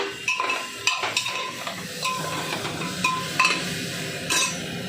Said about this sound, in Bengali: আমি জাস্ট একটু 2 মিনিট নাড়বো।